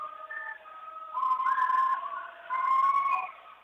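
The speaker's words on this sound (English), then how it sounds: "we get a whistle and a net call" A referee's whistle sounds at a girls' high school volleyball match, signalling a net call: a few shrill, wavering blasts in two main bursts, fairly clear against a quiet background.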